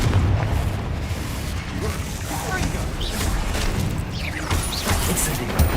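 Blasting-spell explosions and magical impacts from Hogwarts Legacy rumble and crackle in a dense, continuous wash, with several louder bursts standing out near the end.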